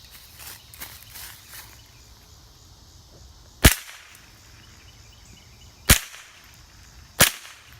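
Three sharp cracks from a Savage .22 rifle fired outdoors, sparse and irregular over several seconds, the first two well apart and the last following closely, with quiet rustling in between.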